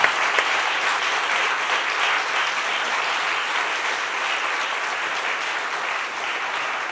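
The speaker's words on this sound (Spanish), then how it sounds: "Dele un aplauso al Señor por eso" A church congregation applauding during a sermon: a dense, continuous wash of many hands clapping at an even level for seven seconds, with no individual claps standing out and no voices over it.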